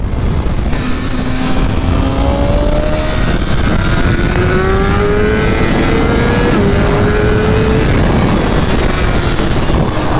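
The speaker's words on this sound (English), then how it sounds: "Nice little Supra pulling up on me." A Toyota Supra pulls up alongside a BMW S1000RR motorcycle on the road, with a loud, close engine whine rising through several gear changes over constant wind and road roar.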